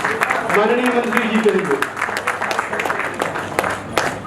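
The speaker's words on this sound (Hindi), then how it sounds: "एक बार जोरदार तालियां" A crowd claps at a doctors' felicitation ceremony in Patna, Bihar, with sharp, sustained applause running beneath someone speaking over an amplified microphone.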